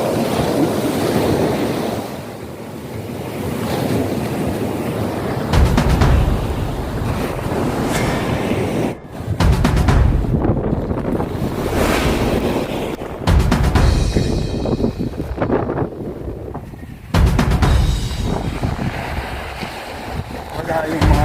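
Sea waves break on the beach at Bucana in Nasugbu, Batangas, rolling in and washing up in repeated surges with gusty wind buffeting the microphone.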